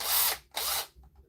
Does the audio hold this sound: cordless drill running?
yes